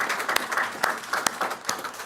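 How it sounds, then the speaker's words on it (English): A short burst of applause from attendees at a county health and human services committee meeting, a steady patter of claps with a few sharper hits, moderately near and unaccompanied by talk. "So a round of applause for both would be greatly appreciated."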